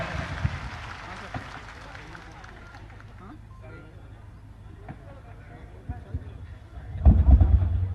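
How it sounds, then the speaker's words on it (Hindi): A crowd gathered for Chief Minister Shivraj Singh Chouhan's foundation-laying ceremony in Satna applauds to welcome him, a diffuse clatter over a murmuring hall that swells into louder, denser clapping near the end. "एक बार तालियां बजा करके उनका अभिनंदन करें"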